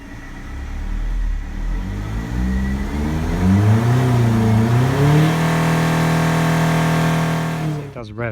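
A Land Rover Freelander diesel engine, after a crank sensor fix, revs up steadily past 2,500 rpm, its pitch climbing and rising in waves before holding a high, loud whine, then cutting off abruptly.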